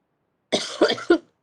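A person coughs three times in quick succession, close and fairly loud, followed by silence.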